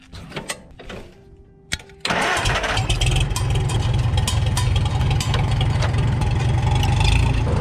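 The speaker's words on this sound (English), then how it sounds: "Let's go ahead and get the tractor warming up." A few clicks and a brief crank, then a Farmall tractor engine catches and settles into a loud, steady rumbling idle close by.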